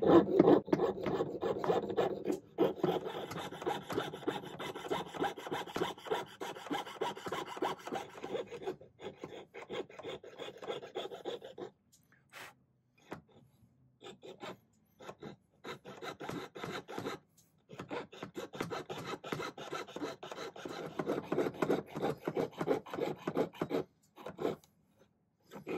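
A fine jeweler's saw rasps back and forth through silver in steady rapid strokes, pausing a few times before the rhythmic cutting resumes, close and fairly quiet.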